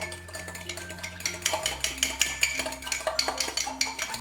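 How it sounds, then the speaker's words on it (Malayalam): A spoon stirs butter, condensed milk, milk and sugar in a mug, making quick, rhythmic clinks and scrapes against the sides, close and fairly quiet. "ഈ മഗ്ഗിലേക്ക് 1/2 ടേബിൾ സ്പൂൺ ബട്ടറും 1 ടേബിൾ സ്പൂൺ കണ്ടൻസ്ഡ് മിൽക്കും 2 ടേബിൾ സ്പൂൺ മിൽക്കും 1 ടേബിൾ സ്പൂൺ പഞ്ചസാരയും ചേർത്ത് ഇതൊന്ന് മിക്സ് ചെയ്ത് കൊടുക്കാം"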